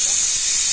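A pressure cooker cooking vegetables on a clay-plastered wood stove lets off a loud, close, sharp burst of hissing steam, brief and continuous.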